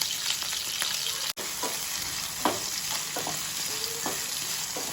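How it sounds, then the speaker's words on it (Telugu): Onions fry in hot oil in a pan for a mushroom masala curry, giving a continuous close sizzle broken by a few scraping stirs and light clinks. One sharp click comes early on. "ఇప్పుడు ఉల్లిగడ్డ వేసి వేసుకోవాలి దూరగా వేగేదాకా వేయించుకోవాలి"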